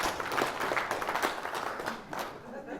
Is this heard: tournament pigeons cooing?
no